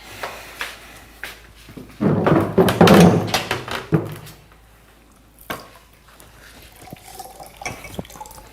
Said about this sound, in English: You're spilling water all over the place.